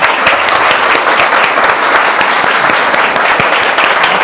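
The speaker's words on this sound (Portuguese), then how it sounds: "convido agora, sob uma calorosa salva de palmas, Nilza Silva" Warm, loud applause from an audience at a real estate professionals' lecture, a dense continuous roar of many hands clapping at an even level from start to finish.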